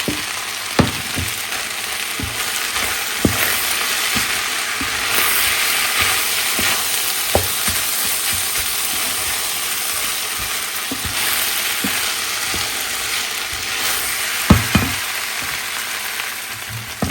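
Rice frying in a pan, with a steady broadband sizzle running throughout and occasional sharp clicks and scrapes of a utensil against the pan, close and moderately loud, with no talking.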